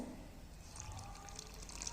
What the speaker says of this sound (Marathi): आणि त्याच्यामध्ये आता थोडंसं पाणी ओतायचं